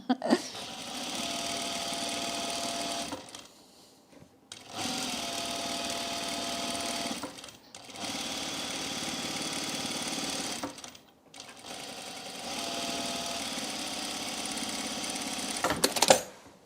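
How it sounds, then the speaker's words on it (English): A sewing machine runs an extra row of stitching along a garment edge, buzzing in four long, steady bursts separated by short pauses, close and fairly loud. "I've been putting an extra row stitching along the edge here."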